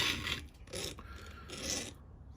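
Hand file rasping across a .404 semi chisel chainsaw chain held in a jig, a few close, gritty strokes in a row.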